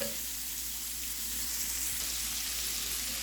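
Onions frying in bacon grease for a patty melt, a steady soft sizzle with a faint watery hiss running evenly throughout, close and quiet with no talking.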